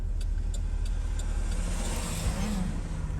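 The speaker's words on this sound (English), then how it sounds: "Let this car pass." A car passing close on a road, a steady broadband rush of tyres and engine that stays loud throughout and swells slightly near the end, heard from inside a vehicle.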